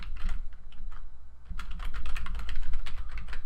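Rapid keystrokes on a computer keyboard, a steady run of close, crisp clicks that picks up density partway through, with no speech over it.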